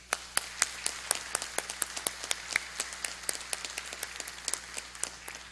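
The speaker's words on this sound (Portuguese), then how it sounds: "que eu peço uma salva de palmas" Audience applause at a ceremony honouring an educational complex, heard as sharp, well-separated individual claps in an irregular rhythm, fairly close and clear over a faint steady hum, with no voices.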